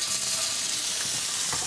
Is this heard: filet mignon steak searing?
yes